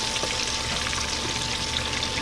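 Chicken wings deep frying in hot oil on a Copper Chef cooktop, a dense, steady, loud sizzle with continuous crackle and no pauses or voices.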